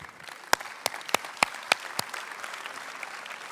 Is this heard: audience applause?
yes